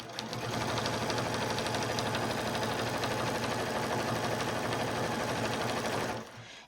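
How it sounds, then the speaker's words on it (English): A sewing machine runs steadily, stitching two layers of fabric for a quilt-as-you-go dish mat, with a continuous rapid mechanical whir and needle rhythm for about six seconds before stopping. "always make sure your fabric is getting, both layers of fabric are getting sewn in"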